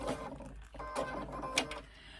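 A domestic sewing machine stitches through the folds of a JoJo handbag in short, uneven bursts of rapid mechanical chatter, quiet and close.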